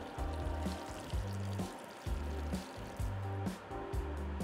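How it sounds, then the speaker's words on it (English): Roughly two cups of hot water pour steadily into a Tex-Mex beef stew (carne guisada) in a pot, a continuous trickling stream under loud background music. "I'm gonna add about 2 cups of hot water"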